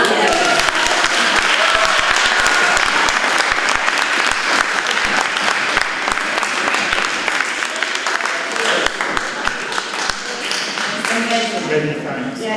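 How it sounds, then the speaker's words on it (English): Conference audience applauding the interpreters, a sustained dense wave of clapping across the hall that slowly thins toward the end, with some voices underneath. "could I also suggest a round of applause for our interpreters?"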